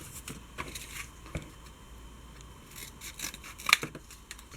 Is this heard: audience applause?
no